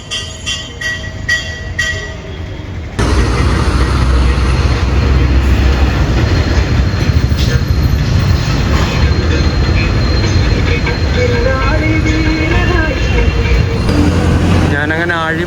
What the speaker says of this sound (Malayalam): തിരുവനന്തപുരം സെൻട്രൽ റെയിൽവേ സ്റ്റേഷനാണ് നിങ്ങളിപ്പോൾ കണ്ടുകൊണ്ടിരിക്കുന്നത്